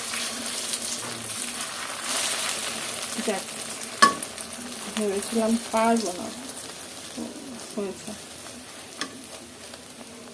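Eggs frying in oil in a pan with a little chepa shutki left beside them, a steady soft sizzle with scraping and stirring clatter, while someone speaks briefly over the cooking.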